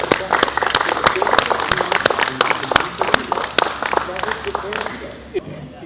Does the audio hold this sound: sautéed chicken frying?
no